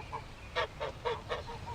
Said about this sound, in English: I went through into the backyard where she kept the geese.